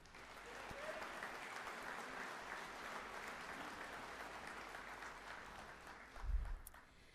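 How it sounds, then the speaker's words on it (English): Steady applause from a commencement audience at a community college, greeting the honor graduates in a broad, even wash of clapping that carries on for several seconds, with a brief low thump near the end. "Let's give them a round of applause."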